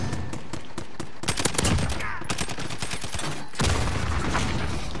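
Rapid automatic fire from a SCAR rifle in Modern Warfare, loud dense bursts of close gunshots running almost the whole time with brief breaks between volleys.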